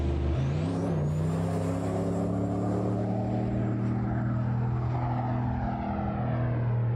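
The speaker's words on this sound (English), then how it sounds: "I've never heard a car sound so much like an airplane." A car engine that sounds like an airplane drones loudly and steadily with a propeller-like hum, its pitch rising early and then holding for several seconds.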